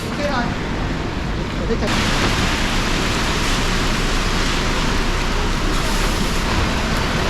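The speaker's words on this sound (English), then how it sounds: "This rain is absolutely insane, guys." A heavy rain downpour hammers down in Hong Kong, a loud, dense, unbroken hiss of close rain filling the whole stretch, with a voice faintly underneath.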